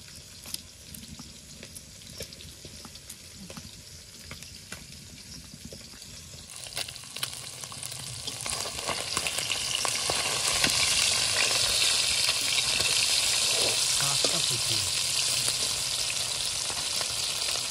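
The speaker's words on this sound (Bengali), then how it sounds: "মাছগুলো ভালো করে ভেজে নিয়েছি লাল লাল করে" Fish fried in hot oil until reddish, a steady sizzle that starts moderate and swells into loud, dense crackling after several seconds, continuing close and alone without talk.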